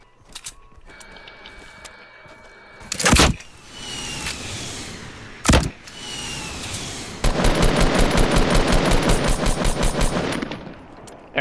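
Fortnite gunfire during a Battle Royale match: two sharp isolated shots, then a sustained rapid automatic burst of evenly spaced rounds lasting several seconds, loud and close with game noise around.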